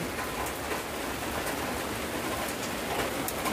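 Steady rain patters continuously on a surface, a dense even hiss with no voices.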